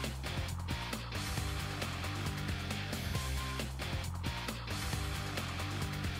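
A ColorPainter large-format printer runs a print job with a steady, loud mechanical hum, broken by regular clicks and shuttling carriage noise, heard alone with no talk.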